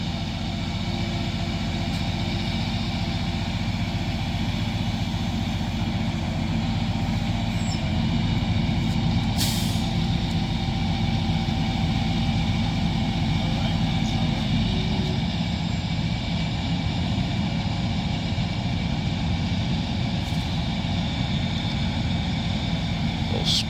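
A truck-mounted crane lifting logs at a sand mound septic system install, its heavy diesel engine droning steadily and loudly throughout with a couple of brief sharp clanks.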